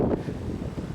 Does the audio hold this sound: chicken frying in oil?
no